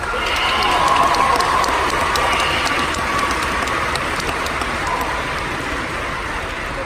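Graduation audience applauding at a 2019 Stony Brook University health science commencement, a dense, steady wash of many hands clapping at moderate distance that fills the whole stretch without letting up.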